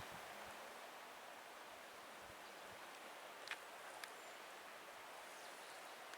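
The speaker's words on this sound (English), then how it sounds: "You can hear a waterfall over there." A distant waterfall where a creek flows into Gilbert Lake on the Kearsarge Pass backcountry trail gives a soft, steady broadband rush, faint and even throughout with no voices.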